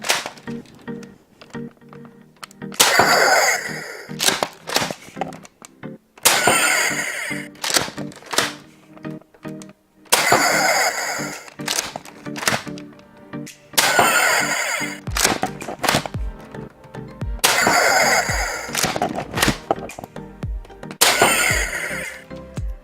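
A modified Nerf Raider blaster fires repeatedly, its clacking shots and mechanical priming bursts coming in about six loud, closely spaced groups separated by short quiet gaps.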